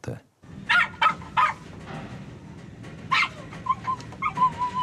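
A dog whimpers and lets out several high, short yips in a quiet indoor room, the sharp cries coming in irregular bursts with soft whining between them while people talk nearby.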